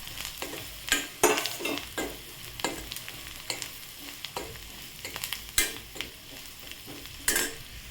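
Fried bombil (Bombay duck) fish being stirred into a sizzling masala mixture in a pan, with a steady fry hiss broken by repeated sharp scraping strokes of a spoon, close and alone.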